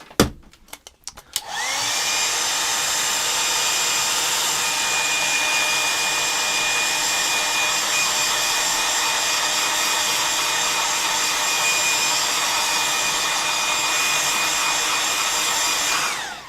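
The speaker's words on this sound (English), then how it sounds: "I'll get my hairdryer on it." After a few clicks and bumps, a hair dryer switches on to dry paint on a drawing and blows with a steady, loud whirring roar that continues unbroken to the end.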